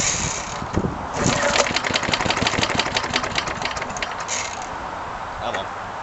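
A Hayter Hayterette lawn mower's small engine is pull-started and catches, putting out a rapid, steady putter of close firing pulses at moderate volume.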